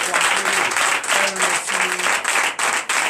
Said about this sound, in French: Et je salue la sœur Kouirin Hélène, que je vous demande d'applaudir très fort.